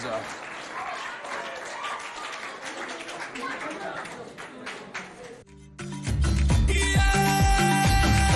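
Lycée Walter Gens students, after their choreography, get a loud, sustained round of crowd applause for about five seconds before it gives way to loud music.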